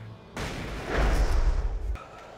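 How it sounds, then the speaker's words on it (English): Flashbang grenade thrown and detonating in the video game Alan Wake, a sudden loud burst followed by a sustained roaring blast that fades after about a second and a half. "Throw a flashbang."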